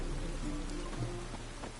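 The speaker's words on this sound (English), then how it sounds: "It's raining again." Steady rain patters on surfaces in The Witcher 3, a constant even hiss with faint scattered drops and no voices.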